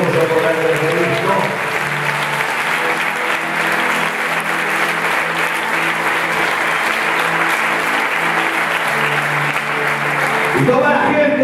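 A church congregation applauds loudly and steadily for about ten seconds, a dense, continuous wash of clapping with some voices and a low sustained tone running underneath.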